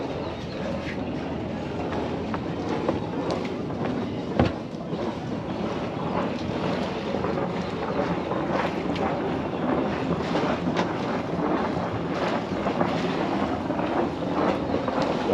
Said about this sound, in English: Okay, let's fire up the port engine. Okay, say a little prayer. Engines are started.